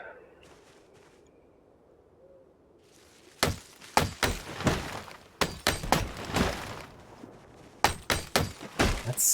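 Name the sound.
distant gunshot meta event in video game Project Zomboid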